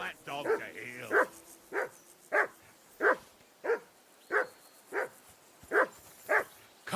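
In the video game Kingdom Come Deliverance 2, a nearby dog barks about ten times in a loud, evenly spaced rhythm, each bark short and punchy.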